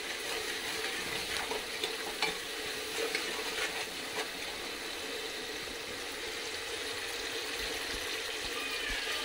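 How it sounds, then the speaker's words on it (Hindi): Tomatoes with salt sizzle and fry steadily in a pan as they are stirred, a continuous soft hiss with faint scraping, no talking. "देखिए इस तरह से हमने चलाते हुए टमाटर को पूरी तरह से भून लिया है"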